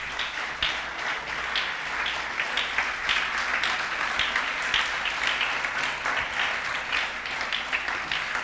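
Sustained applause from a church congregation, a steady dense wash of clapping held at an even level throughout without a break.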